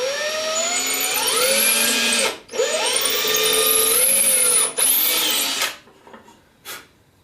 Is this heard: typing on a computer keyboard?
no